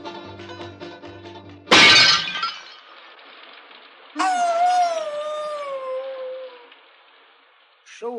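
An old hound dog howls in a long, wavering, tonal cry, preceded by a loud crash like breaking glass and followed by a brief clink near the end.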